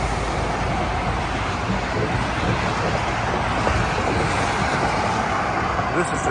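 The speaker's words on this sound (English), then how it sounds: "traffic noise is going to be bad" Steady, broad traffic roar near the Delaware River toll bridge, a constant rushing wash of passing vehicles and wind at close range with no breaks.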